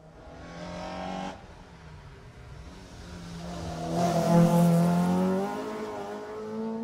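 A front wheel drive rally car on a Jersey stage approaches and passes with a rising, revving engine note that swells loudest near the end, heard from the roadside with no talk.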